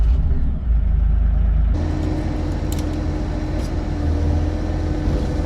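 A Bobcat E42 excavator's diesel engine cranks and catches, settling from a heavy low rumble into a steady close idle with a sudden rise in clatter.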